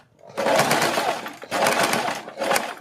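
A sewing machine stitches a round neckline with plates for a bead and patti design, running in three loud bursts of rapid whirring separated by short pauses.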